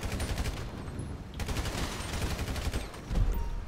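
Gunfire in a video game police shootout, rapid bursts of automatic shots crackling in quick succession, moderately loud and continuous throughout.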